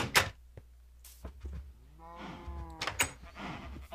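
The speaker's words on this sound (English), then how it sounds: "I can hear the cows." Cows mooing in the video game Minecraft, several drawn-out low moos rising and falling over a few seconds amid brief clicks and game sounds, with no talk.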